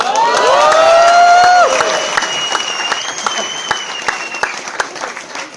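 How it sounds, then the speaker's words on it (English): A crowd at a product launch event on the IIT Mumbai campus, following a yoga demonstration, bursts into applause with loud whoops and cheering voices at first, then keeps up steady, scattered clapping. "And now you all must clap."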